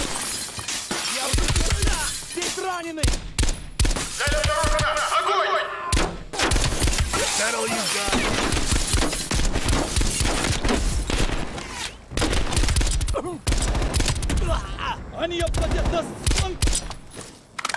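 Dense gunfire from Call of Duty Black Ops Cold War, with rapid bursts and sharp shots running almost nonstop at high level, mixed with shouted voices throughout.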